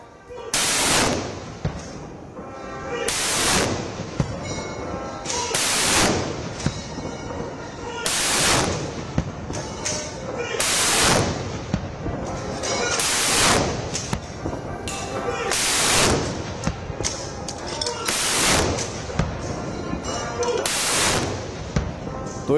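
Ceremonial 21-gun cannon salute at the Red Fort on Independence Day, with loud booming blasts fired at regular intervals of about two and a half seconds, each echoing out over a continuous bed of crowd noise and commentary.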